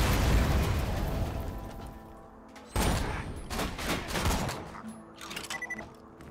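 Rapid gunfire and explosive bursts from the video game Borderlands 2, dense volleys that keep firing at close range before thinning to scattered shots.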